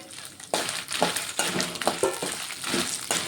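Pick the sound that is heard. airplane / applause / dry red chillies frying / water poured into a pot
dry red chillies frying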